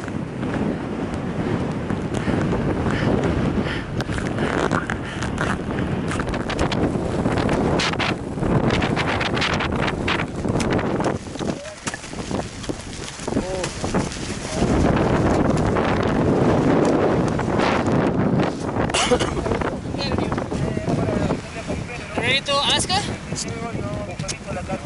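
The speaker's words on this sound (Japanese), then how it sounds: "風が結構吹いてます。" Strong morning wind on Aconcagua roars steadily into the microphone with constant buffeting and gusts throughout, while faint voices talk underneath.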